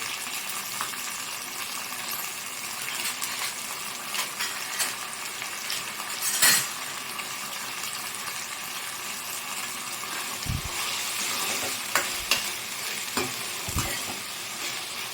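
Continuous hiss and crackle of prawn-legs curry frying in a pan, close and steady, with occasional scraping stirs and soft knocks of the spoon against the pan.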